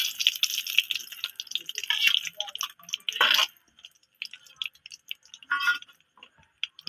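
Vegetables fry in hot oil for a mixed vegetable curry, giving scattered sharp crackles and pops in quick irregular bursts with short quiet gaps between them.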